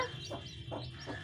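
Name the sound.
newly hatched white baby chicks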